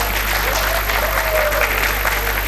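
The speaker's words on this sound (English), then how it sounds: "And some shameless people are clapping there." A lecture audience breaks into steady clapping, a continuous, fairly loud patter over a low hum, with no voices standing out.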